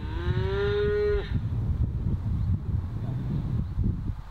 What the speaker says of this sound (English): Trying to release a cow, yeah? One broke through the barrier.